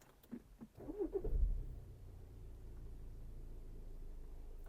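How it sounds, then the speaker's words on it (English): An Audi A6 with a diesel particulate filter fault is switched off and restarted: a short cranking burst, then the engine catches and settles into a low, steady idle rumble, close and fairly quiet, with no talk. "Then again I'm going to switch off, start the car."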